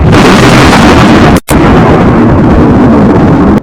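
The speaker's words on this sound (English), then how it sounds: "Next, the Krakatoa explosion echo." A massive, sustained explosive roar with a volcanic blast character, dense and very loud throughout, broken by one brief sharp dropout before the rumbling wall of sound resumes.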